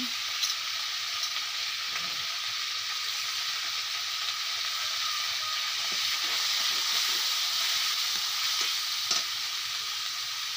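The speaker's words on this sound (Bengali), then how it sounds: "তেলের মধ্যে একটু ভাজতে নিলাম। এই তো কাঁচা লঙ্কা দিয়ে দিলাম।" Green chillies and vegetables fry in hot oil with a loud, steady sizzle and hiss, broken by occasional soft clinks of stirring.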